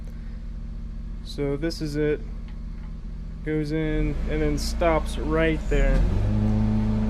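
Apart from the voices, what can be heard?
lawn mower running in the background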